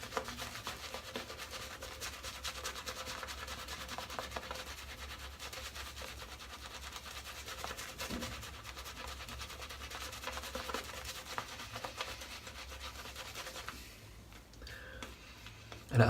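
A shaving brush working up a creamy lather on a face, with steady close brushy rubbing and soft swishing that continues quietly throughout and eases off near the end, with no talking.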